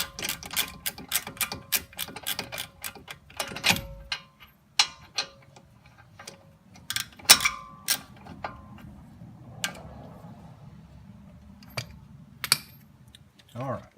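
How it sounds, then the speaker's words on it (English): A torque wrench tightens caliper bracket bolts to 140 foot-pounds during a front wheel bearing replacement on a 2005.5–2011 Volkswagen Jetta. Sharp metallic ratchet clicks and taps come close by in irregular bursts over a low background hum. "So dial that torque wrench up and get these babies torqued down to 140 foot-pounds."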